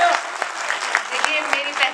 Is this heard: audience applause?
yes